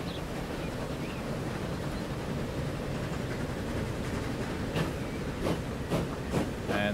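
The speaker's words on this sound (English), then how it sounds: "Alright, there goes one train." Trains roll along the rails in Transport Fever 2 with a steady, faint rumble. A few short clacks sound near the end, and there is no talk.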